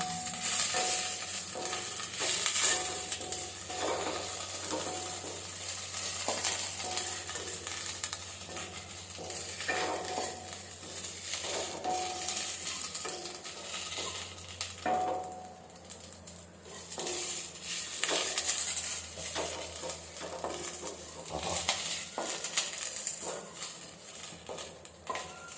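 Eruvachi leaves being sautéed lightly in a pan, with curry leaves added, giving a steady soft sizzle with occasional stirring scrapes and clinks throughout, fairly close and without talk.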